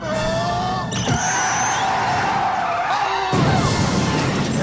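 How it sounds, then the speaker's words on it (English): A car in a comedy chase scene skids toward a gas truck, its tires squealing loudly and at length over engine roar, a sharp screech shifting pitch before a heavy impact-like burst near the end. "While chasing a hypnotized doctor, Frank watches in astonishment as he crashes into a gas truck."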